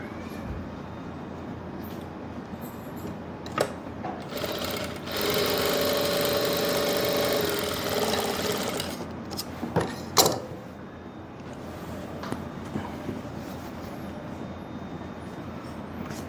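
A sewing machine stitches a pocket seam on palazzo pants in a short, steady whirring run, bracketed by quiet handling clicks and taps, with no one talking.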